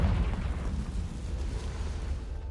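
A Confringo fire spell blasts in the wizarding game Hogwarts Legacy, a heavy boom with a rumbling tail that fades over a couple of seconds, loud and alone without voices.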